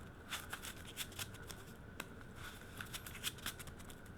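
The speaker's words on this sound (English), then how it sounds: "I am shuffling." Playing cards being shuffled close up, a quiet series of quick riffling snaps and flutters in an uneven rhythm, with no talking.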